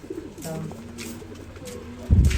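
A racing pigeon at a loft coos softly in low, rounded calls, close by, ending in a sudden thump or flutter.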